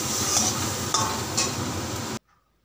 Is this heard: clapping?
no